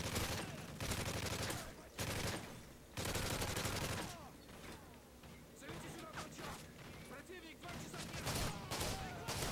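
Gunfire from a 12-gauge shotgun in the video game Call of Duty: Modern Warfare 3 survival mode sounds in loud, close blasts early on, then quieter scattered shots and clatter continue under someone talking.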